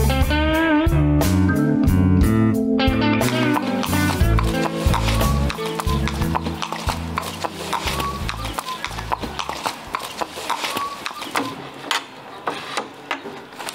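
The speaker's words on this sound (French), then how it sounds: "paroles de Poney." Pony sounds arranged as a sound creation, with a dense, busy layer of rhythmic clip-clop-like clattering and tonal calls running throughout, loud and continuous with no speech.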